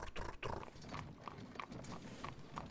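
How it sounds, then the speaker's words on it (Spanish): Horse hooves clip-clopping in Tails of Iron, a faint, regular trot of evenly spaced hoofbeats with a cart, continuing steadily for a few seconds with no talk. "Me encanta el sonido de los cascos de caballo"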